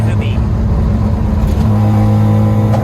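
A loud Mazda RX-7 rotary engine drones and revs while driving on an American road, its steady humming tone shifting in pitch as it pulls, with people talking inside the car.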